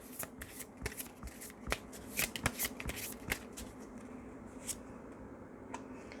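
Tarot flower cards being shuffled and drawn, a run of crisp, uneven riffling snaps and slides at close range, quiet overall with no talk.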